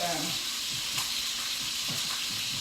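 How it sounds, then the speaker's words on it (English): Chicken cacciatore sauce with juice simmers in a pan, giving a steady soft hiss and faint sizzle that runs throughout, with a voice talking quietly over it. "And as it cooks, we're going to let it simmer."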